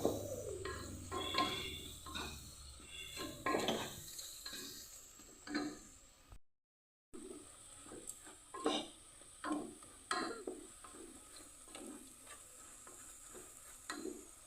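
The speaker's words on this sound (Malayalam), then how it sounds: "തക്കാളിൻ്റെ ഒരു പച്ചമണം കൂടി ഒന്ന് മാറട്ടെ ജസ്റ്റ് ഒന്ന് നമുക്ക് വഴറ്റിയെടുക്കാം" Tomatoes sauté in a pan on a low flame, a soft sizzle broken up by repeated scraping stirs at an uneven rhythm, close and fairly quiet, with a brief dropout midway.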